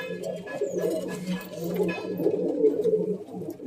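Carrier pigeons at a loft where birds are kept for sale coo in a steady, overlapping chorus, low throaty calls repeating close by with no talk.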